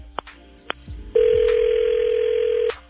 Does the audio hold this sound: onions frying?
no